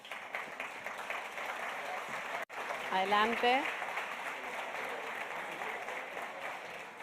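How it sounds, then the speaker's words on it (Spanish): A conference audience at a technology and financial inclusion event applauds panel speakers as they are introduced, steady moderate clapping throughout, briefly overlaid by someone speaking in Spanish partway through. "Le damos un gran aplauso."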